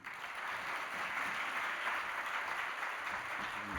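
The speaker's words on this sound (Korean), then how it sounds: "큰 박수로 환영하겠습니다." A congregation at an autumn revival evening service at a Korean church applauds to welcome the pastor, a steady, even wash of clapping from many hands sustained throughout, fairly close and without voices.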